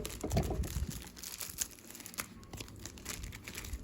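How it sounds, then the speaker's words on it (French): Plastic wrapping crinkles as it is pulled off an oracle card deck, with a louder crackling burst at first and then lighter, scattered rustles and crinkles close by. "j'ai enfin pu donc retirer un petit morceau de plastique pour pouvoir continuer de le déballer avec vous"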